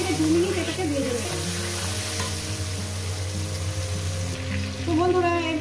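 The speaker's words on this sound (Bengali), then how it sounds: "এটা 1 থেকে 2 মিনিট এটাকে ভেজে নেব।" Tomato and turmeric frying in a pan while being stirred, a steady loud sizzle with scraping stir sounds throughout.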